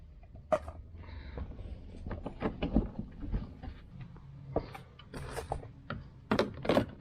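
Screws being driven and clipped into a carbon fiber front grille on a 2023 Toyota GR Corolla, heard as close, irregular clicks, ratcheting taps and small plastic knocks at low volume with no talk.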